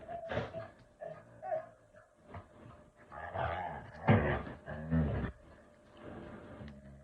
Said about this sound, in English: My dogs are wrestling right now.